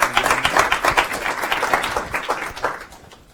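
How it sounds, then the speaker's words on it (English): Applause from an audience at a marketing talk, a dense patter of clapping that starts full, holds steady, then thins and fades toward the end. "give CNN a round of applause"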